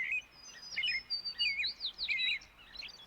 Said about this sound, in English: birds were there all around in a circle, having their breakfast